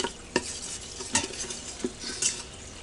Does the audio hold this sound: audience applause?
no